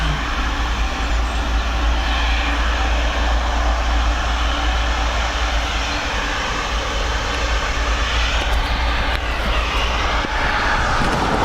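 An airliner takes off in wind and rain at Dublin Airport, its engines giving a loud, steady broadband roar that holds for the whole stretch, with no voices.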